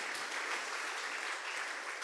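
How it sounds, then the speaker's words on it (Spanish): Steady applause from a church congregation, a dense wash of many clapping hands at moderate distance, sustained without pause and with no talking over it. "A ver, dale un aplauso al Señor."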